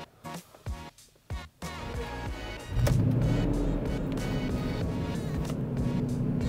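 A Land Rover engine cranks in short bursts, then catches and settles into a steady, loud running rumble close by.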